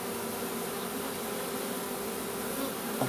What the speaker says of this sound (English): all the flying bees returning